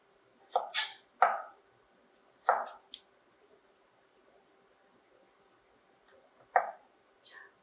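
Knife cutting carrot pieces on a cutting board while shaping them into 3–4 cm lengths, heard as several sharp, close chopping knocks spaced irregularly between quiet gaps.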